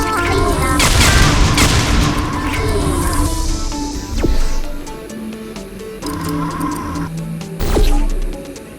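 Turret gunfire in the Portal Stories VR game comes as dense, loud bursts of rapid shots mixed with sharp booms and metallic clanks, easing into scattered impacts with quieter gaps between.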